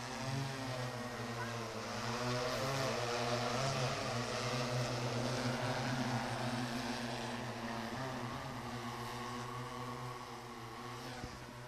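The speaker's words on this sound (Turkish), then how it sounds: "drone'umuz hareketlendi" Drone propellers buzzing at a village farm in Çeşmealtı, Biga, a sustained tonal whine with steady harmonics that rises slightly in level, moderately close and alone.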